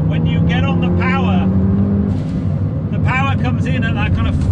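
A 400bhp R56 Mini's engine pulls hard under full power, a loud rising drone and strained harmonics running throughout, while voices talk over it in bursts.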